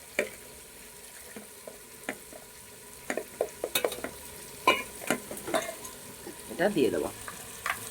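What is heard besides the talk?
spice paste frying (kosha) with mutton in a pan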